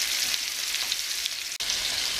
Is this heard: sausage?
yes